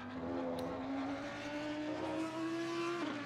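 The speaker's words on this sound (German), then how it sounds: "Also das Auto fährt sich ja wirklich gut. Es ist halt einfach nur dieser monotone Klang." A race car engine in the Assetto Corsa racing game drones in a steady, monotone tone, pitch slowly climbing and then dropping sharply near the end, with no talk over it.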